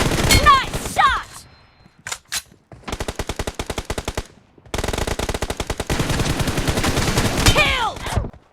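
Automatic and single gunfire crackles in PUBG Mobile, with rapid volleys of shots fired in several loud bursts. Brief voices and game callouts are heard at the start and end.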